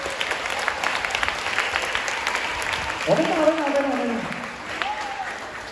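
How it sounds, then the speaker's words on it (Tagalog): Grade 6 students applauding during a recollection session: a sustained wash of group clapping throughout, with an adult voice speaking over it partway through. "Palakpakan natin si Lord."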